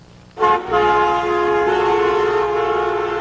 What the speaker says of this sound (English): Hundreds responded with a blare of angry sound.